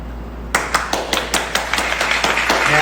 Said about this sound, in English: Can we give a clap and a cheer for Hero?